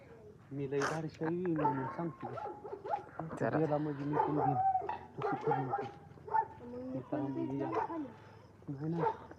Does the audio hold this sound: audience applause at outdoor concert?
no